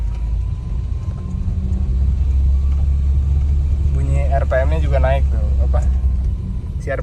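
A Volvo 960GL revs high in first gear while climbing a hill, its engine a constant loud low drone throughout, with someone speaking over it through the middle stretch.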